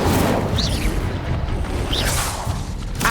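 Spell-casting effects from the Hogwarts Legacy video game, with the Incendio fire spell among them: two airy whooshing bursts over a dense, continuous rumble of combat noise, and a sharp flare at the very end.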